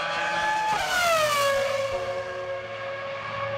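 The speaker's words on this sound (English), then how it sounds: "That's the sound of a naturally aspirated V10 Formula One engine" A naturally aspirated V10 Formula One engine screams loud and close, its high pitch climbing then sweeping downward as the car passes, a sustained shriek for several seconds.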